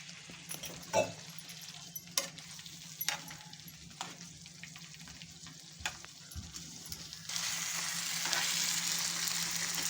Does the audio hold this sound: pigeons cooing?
no